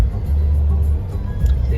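Steady road traffic rumbling close by at the busy clock tower (Ghanta Ghar) junction in central Dehradun, a continuous low engine drone with no distinct passes, voices murmuring faintly within it.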